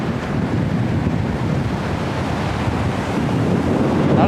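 Rough surf crashes nonstop onto Chinna Neelangarai beach during Cyclone Fengal. Strong wind buffets the microphone in a loud, dense roar with no voices.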